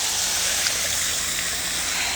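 Water pours steadily onto a potted lemon tree, a continuous loud hiss-like splash held at an even level throughout, with no voices.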